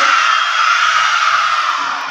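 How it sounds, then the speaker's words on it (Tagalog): Schoolchildren at an elementary school entrance shout a team cheer together, a loud sustained crowd of young voices yelling as one for about two seconds. "Siyempre, mas nakakabingi ang sigaw ng Yellow Snipers!"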